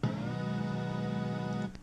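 A single held synth note from a downloaded sample pack sustains evenly with a bright, buzzy tone before cutting off, quiet and alone.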